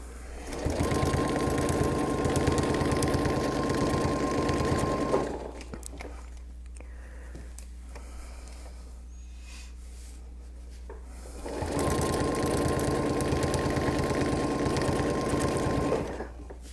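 A sewing machine stitches circles on a quilt in two busy, even runs of rapid mechanical chatter, broken by a quieter pause with faint handling noises.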